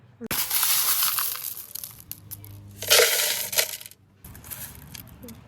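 Green serpentine stones clatter and crunch as they are poured back into a vibratory tumbler barrel in two loud bursts, with a quieter rattle after.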